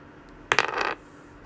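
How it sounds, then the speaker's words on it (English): Dice clatter as they are rolled and tumble across a hard surface, one brief rattling burst of a fraction of a second in otherwise quiet surroundings. "I'm going to roll the dice and get it over with"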